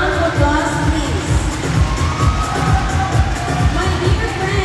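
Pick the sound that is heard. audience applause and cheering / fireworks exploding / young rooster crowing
audience applause and cheering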